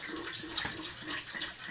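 Tap water runs steadily into an electric kettle being filled to boil for warming a teapot, a continuous close hiss and splash with no talking.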